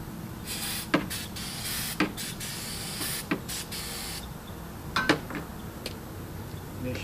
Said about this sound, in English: Starting fluid.